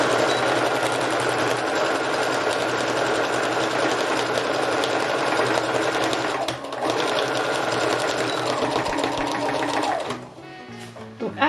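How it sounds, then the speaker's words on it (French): A sewing machine runs steadily, stitching a parallel seam on a fabric brush pouch, with one brief dip partway through before it slows and stops near the end. "Après, je fais ma première couture parallèle."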